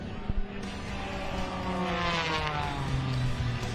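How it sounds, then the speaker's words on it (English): An Extra 330 aerobatic propeller plane flies at a military airshow, its engine a sustained loud drone with rising and falling pitch as it maneuvers, steady throughout without talk. "look at that incredible handling of the extra 330"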